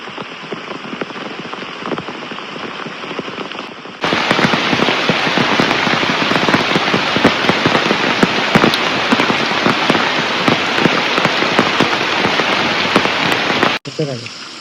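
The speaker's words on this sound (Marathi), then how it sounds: "मस्त पाऊस पडतोय" Heavy monsoon rain in the Konkan countryside pours steadily in a dense, hissing roar that suddenly grows louder and stays intense before cutting back down.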